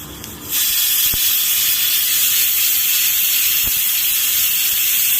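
Dried red chillies sizzle in hot oil while tempering a chana dal and spinach dal, a loud bright hiss that bursts in suddenly and holds steady, with a couple of faint clicks.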